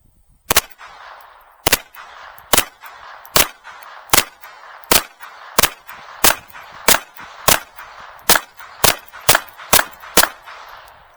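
An FN 502 pistol fires in rapid succession, about a dozen sharp, loud cracks at a fast, slightly uneven cadence, with brief ringing echoes between shots outdoors.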